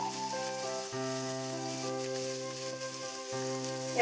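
Prawns dropped into hot oil for a Bengali potol chingri, a steady close sizzle running throughout with a low humming tone underneath, no voices.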